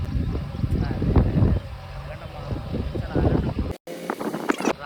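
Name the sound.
wind blowing into the microphone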